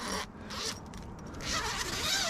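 A zipper on a Smittybilt Gen 2 Overlander rooftop tent is pulled in short, quiet raspy bursts, close by, with brief gaps between strokes.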